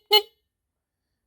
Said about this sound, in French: Après on a un klaxon